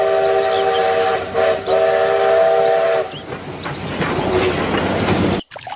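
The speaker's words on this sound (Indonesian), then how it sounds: "Widih, yang ini kereta api." A toy train plays a steady electronic whistle-like tone for about three seconds, then gives way to rumbling clatter with brief chirps, loud and close, ending in a sudden cutoff.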